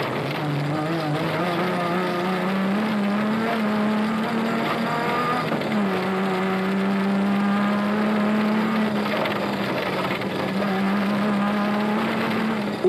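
Toyota off-road race cars compete at the 2006 Toyota Dealer 400. Engines drone loudly and continuously, their pitch dipping and climbing as the cars change gear and speed, with no talk over the sound.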